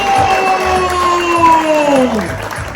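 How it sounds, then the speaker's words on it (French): A crowd at the Oyster Cup race awards in Les Sables d'Olonne claps and cheers for the winners, with shouting and whooping voices rising and falling over the noisy, close applause. "Et on les applaudit très très fort"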